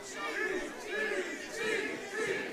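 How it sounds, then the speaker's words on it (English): Wrestling crowd at a Titan event chanting "Cheese" for the wrestler Cheeseburger, a rhythmic, repeated group chant rising and falling about every half second, with voices blending together. "Cheese chants from the crowd here at Titan."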